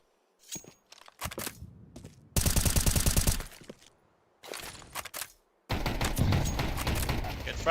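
Pistol fire in a competitive Counter-Strike match comes in dense rapid bursts, several clusters of sharp cracks broken by short silent gaps, and the loudest bursts arrive around the middle and at the end.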